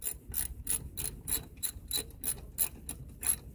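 Ratchet wrench clicking in rapid repeated bursts while loosening or tightening bolts during an alternator replacement on a 2007 Subaru Forester, close and clear with no talk.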